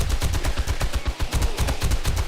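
A shotgun fires rapidly in 7 Days to Die, a close, loud string of repeated blasts in steady rhythm with no talking.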